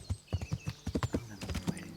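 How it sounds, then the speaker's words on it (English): A horse in the video game Kingdom Come: Deliverance clip-clops in a quick, steady run of close hoofbeats, and a whinny rises over the final stretch of footfalls. "hopefully my horse will listen to me when I whistle for it"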